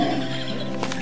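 A horse's whinny fills the moment, loud and close, a bright wavering neigh with no other sounds around it.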